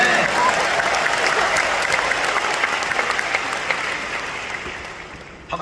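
Audience applause fills a church concert hall during a Protestant anniversary event, a dense, steady wash of clapping that holds for several seconds and then tapers off toward the end.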